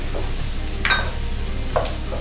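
Ground spices sizzle for butter chicken as they are sautéed in a pan, a steady close frying hiss broken by a couple of sharp scraping stirs of a utensil against the pan.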